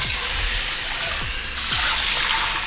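Water pours steadily from a tap into a tub being filled to soak cane webbing, a continuous close rushing splash with a few low sloshing thumps and no talk.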